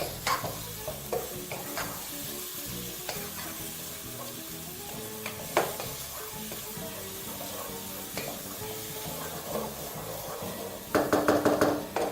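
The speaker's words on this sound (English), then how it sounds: "we're just going to allow that to continue frying for about another minute" Whole tomatoes frying in a pot: steady sizzling with occasional stirring clatter, close and continuous, ending in a brief burst of louder scraping.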